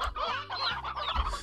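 Chickens in the Slime Rancher video game cluck steadily and close up, a run of short fowl calls filling the moment with no talk.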